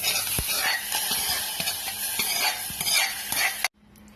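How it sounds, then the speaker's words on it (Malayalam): Tempering of green chillies and curry leaves poured into Palakkad-style sambar, then stirred: a steady close sizzle with repeated scraping stir strokes, cutting off abruptly near the end. "പൊട്ടി കഴിഞ്ഞ് നമുക്കിത് ഈ വറവ് ഇതിലേക്ക് ഇട്ട് കൊടുക്കാം"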